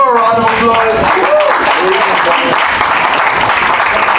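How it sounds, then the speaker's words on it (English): An audience applauds at a poetry meeting. A voice speaks briefly at the start, then steady, dense clapping fills the rest of the clip at a close, loud level. "Let's give her a round of applause."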